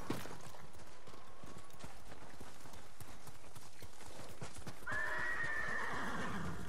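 Horses in the video game Ghost of Tsushima clip-clop steadily, hooves close by, then one horse gives a loud whinny toward the end.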